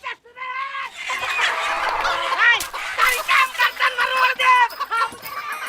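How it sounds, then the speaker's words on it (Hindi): Village chickens squawk and cackle in a noisy fight, a close flurry of shrill, overlapping cries with brief bursts of agitated clucking running throughout. "लो भाई, मुर्गी महाभारत फिर शुरू।"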